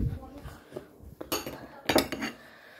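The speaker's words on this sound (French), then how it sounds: "Je vais prendre une grande cuillère, je vais enlever un petit peu d'eau" A large spoon scraping and clinking against a bowl while scooping off water for aribo dough, a few close metallic knocks and scrapes in quick succession, with faint voice in the background.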